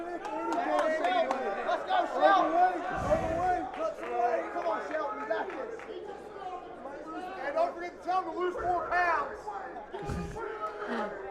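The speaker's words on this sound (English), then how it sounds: "Crowd kind of taunting Motsinger" Fight-night crowd at Fight For It XVII jeering and taunting fighter Josh Motsinger over missing weight; a steady babble of voices and shouts fills the whole stretch, with a few sharp thuds breaking through.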